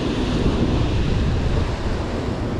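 Ocean waves at high tide on the California Pacific coast, a constant loud wash of surf with wind buffeting the microphone, no voices.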